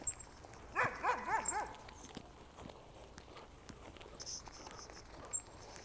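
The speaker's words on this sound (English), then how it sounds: "Stop barking and go get warm." A dog barks outdoors in cold weather, a short burst of four or five close, sharp barks early on, followed by footsteps and quiet street sounds.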